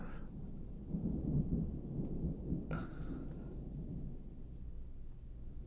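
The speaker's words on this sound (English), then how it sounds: "Sounds like thunder." A low, distant rumble of thunder rolls on steadily, with a faint crackle partway through and soft rain-like hiss in the background.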